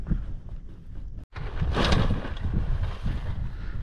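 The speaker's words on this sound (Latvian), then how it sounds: "vējiņš sāk celties" Wind rising over a frozen lake during ice fishing on Lake Peipus, a steady gusting rush buffeting the microphone, briefly cutting out before swelling louder, with no talk.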